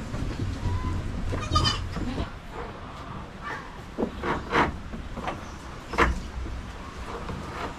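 A very large goat, around 100 kilos, bleats several times in short wavering cries over a busy outdoor farm background, fairly close and clear, with no talk.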